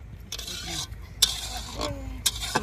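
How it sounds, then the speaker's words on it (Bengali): Lentils boiling in a pot at an outdoor riverside picnic are stirred, giving scraping and clinking strokes against the pot that recur irregularly over a low, steady background rumble. "এখানে ডাল সেদ্ধ চলছে।"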